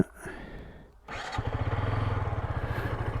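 A Husqvarna Svartpilen 125 motorcycle starts after a quiet pause: a brief starter whir, then the single-cylinder engine catches and settles into a close, even, pulsing idle.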